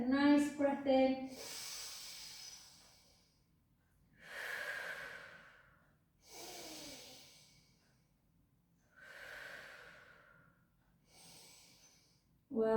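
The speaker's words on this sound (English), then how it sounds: "Take a nice breath in." Deep, slow breaths drawn in and let out during a pilates class, several soft airy swells spaced a couple of seconds apart, preceded by a brief spoken instruction.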